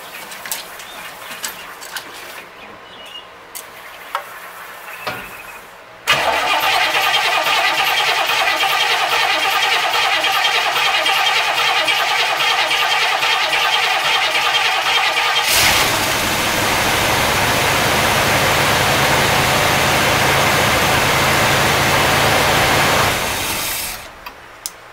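A 1964 Cadillac engine cranks and fires with a sudden loud roar, runs strongly up close for several seconds with a change in tone midway, then cuts out, with faint birdsong before the start.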